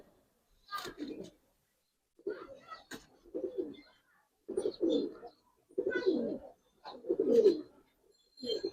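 Pigeons coo in a series of soft, low, throaty calls after a male and a female are let out, about six bursts spaced evenly apart and close by.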